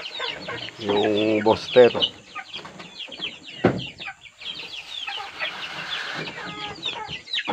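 One-month-old chicks clucking and peeping while pecking at feed inside a netted chicken range, a close, busy mix of short calls and chirps, with a person speaking briefly among them.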